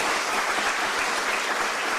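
An audience at a Juneteenth history talk claps in a thick, even wash of applause, sustained and fairly close for the whole stretch.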